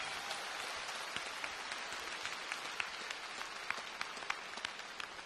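A concert audience applauds, a faint, steady wash of clapping with scattered sharper claps heard from a distance.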